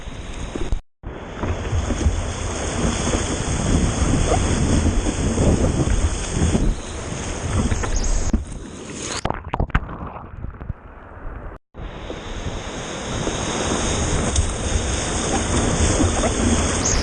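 Ocean surf rolls in on a poor day for waves, a loud continuous wash of breaking water with heavy wind buffeting the microphone and a couple of brief dropouts.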